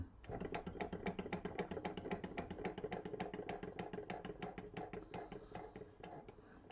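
A George Carette hot air Stirling engine from 1911, running poorly, gives a steady rapid mechanical clatter of regular ticking beats. It is faint and alone throughout, with no talk.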